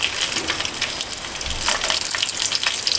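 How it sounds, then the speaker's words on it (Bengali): Dried chillies sizzling in hot mustard oil, a steady crackling hiss at close range with no talk. "সরিষার তেল দিয়ে দিচ্ছি, শুকনো মরিচ দিয়ে দিচ্ছি,"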